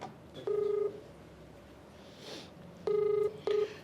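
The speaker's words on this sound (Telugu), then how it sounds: "ఒకసారి మీరు ఓకే అంటే కాల్ చేస్తాను" A telephone being dialed for a call: three clear touch-tone keypad beeps, the first alone and the last two close together, ringing out over a quiet background.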